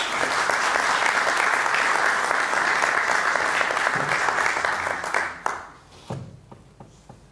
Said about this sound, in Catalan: un fort aplaudiment per Javi Miró